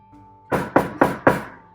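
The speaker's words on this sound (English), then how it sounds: "Who is knocking like a madman on my door?" Four loud, evenly spaced knocks on a door, sharp and close, after a brief quiet moment.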